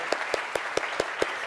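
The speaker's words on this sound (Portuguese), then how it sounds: "dar uma salva de palmas aqui para ele" Applause at a Brazilian advertising-media industry event, ABA Mídia 2018, for a committee member: six evenly spaced, sharp claps stand out over a steady wash of quieter clapping from a seated audience.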